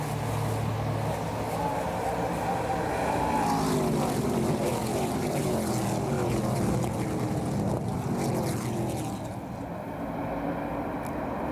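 Stock race cars of the ARCA Menards Series roaring around Iowa Speedway in a steady, dense engine drone, with rising and falling pitch sweeps as cars pass and no one speaking.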